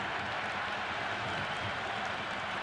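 A stadium crowd in the cricket video game Cricket 26, during an IPL match between CSK and MI, giving off a steady hiss of broad cheering and clapping with no single voice standing out.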